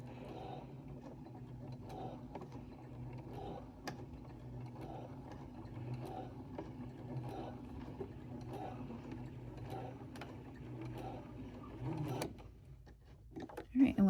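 A sewing machine runs a regular-length stitch through cycling bib fabric indoors, a quiet steady whirring with short pauses and small clicks, heard beneath someone talking.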